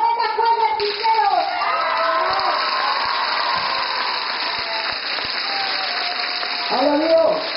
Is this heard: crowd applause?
yes